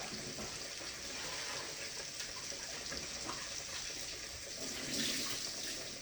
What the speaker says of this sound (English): I'm rinsing my hands.